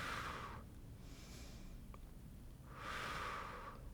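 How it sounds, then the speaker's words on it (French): A person breathes in and out during a beginner cardio-pilates workout. Two loud, airy exhales frame a softer inhale between them, all close to the microphone. "Souffle, inspire et souffle et inspire"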